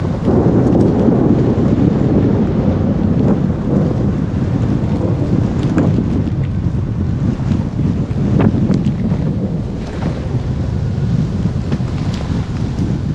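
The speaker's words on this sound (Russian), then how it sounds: "здесь дождь усиливается" Heavy rain pours down steadily amid strong wind buffeting the microphone, a dense, loud roar with no voices throughout.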